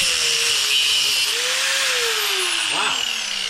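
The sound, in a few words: power tool cutting off a number plate bracket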